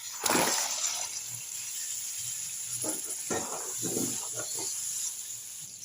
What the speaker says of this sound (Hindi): अब इसमें डालेंगे सब्ज़ी। बिस्मिल्लाहिर्रहमानिर्रहीम। ये आलू और मटर।